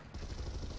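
Rapid gunfire in a competitive video game match, a short dense rattle of shots that starts abruptly and stays loud and steady for under a second, with no talking.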